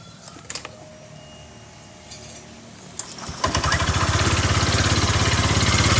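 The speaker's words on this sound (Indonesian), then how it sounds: "Jadi caranya kita hidupin mesin dulu." A Honda Vario scooter engine cranks and catches about three and a half seconds in, then settles into a steady, close, rhythmic idle, with a few clicks and light handling noises before it starts.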